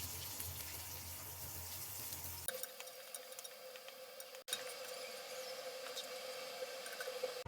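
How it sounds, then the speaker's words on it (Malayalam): Raisins fry in a spoonful of ghee with cashews for rava halwa, a soft quiet sizzle with light stirring scrapes, broken by an abrupt cut partway through. "ഇനി മുന്തിരി വറുത്തെടുക്കും"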